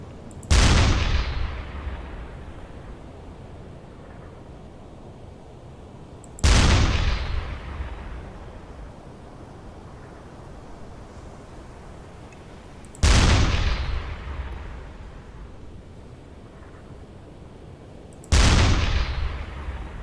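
Four heavy naval deck gun shots from a U-boat firing .88 rounds in the game UBOAT, each a loud boom with a long rumbling decay, spaced about six seconds apart, with no voices.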